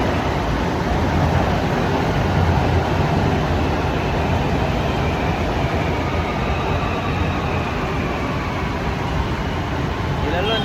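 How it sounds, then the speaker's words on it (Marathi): A Mumbai metro train pulls into the station, filling the platform with a loud, continuous rumbling roar while people talk nearby. "मेट्रो पण आली."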